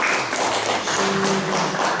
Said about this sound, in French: Merci des applaudissements